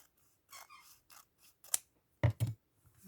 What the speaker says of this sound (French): Alors je vais peut-être couper comme ça sur le côté.